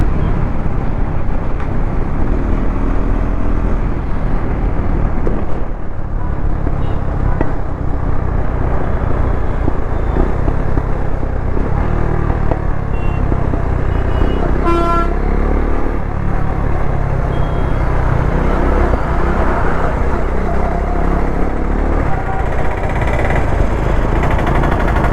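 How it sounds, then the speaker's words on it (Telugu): Heavy road traffic sits jammed in the Madhyapalam area, with a dense, continuous roar of engines close by and a brief horn-like tone about midway. "Full traffic jam."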